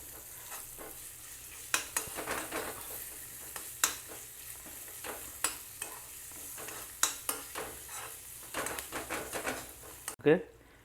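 Dried chillies and asafoetida frying in ghee with stirring, a steady sizzle broken by repeated scraping strokes of a spoon against the pan, with a louder clatter near the end.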